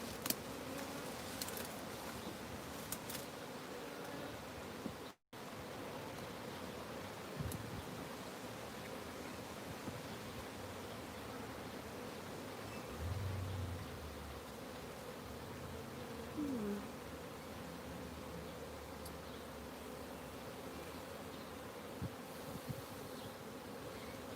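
Honey bees hum in a dense, continuous drone around an open hive, a close, even buzz that holds steady throughout with only faint rustling beneath it.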